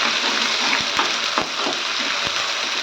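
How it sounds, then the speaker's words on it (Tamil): Chopped ginger sautéing in hot oil for a ginger pickle gives a steady, bright sizzle, close and even, broken by a few soft knocks of a spoon stirring the pan. "இஞ்சியை வந்து இந்த எண்ணெயில் நல்லா நம்ம வதக்கிக்கலாம்."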